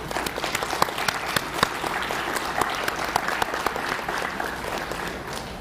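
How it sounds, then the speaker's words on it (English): An audience at an honor society induction ceremony applauds the teachers in a steady, full burst of clapping that holds at an even level throughout, with a few sharper claps standing out. "everybody give them a round of applause"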